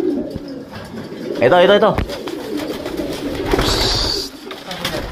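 Racing pigeons, an inbred Maui line prepared for a winter race, coo in a loft, with someone talking over and between the low calls and some wing or handling noise.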